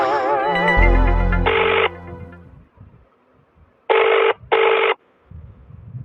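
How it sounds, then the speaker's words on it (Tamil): A telephone rings in loud, repeated bursts: a melodic ringtone at first, then two sharp electronic rings after a pause, with faint background sounds between them. "சக்தி, போன் எடு, போன் எடு சக்தி."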